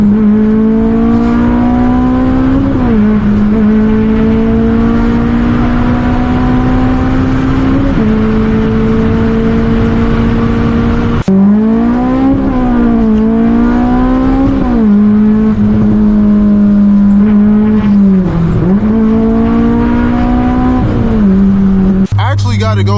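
A straight-piped Honda S2000 with a fully custom exhaust drones loudly and continuously from inside the car, its pitch climbing through each gear and dropping on every shift, with repeated rising revs and raspy overtones.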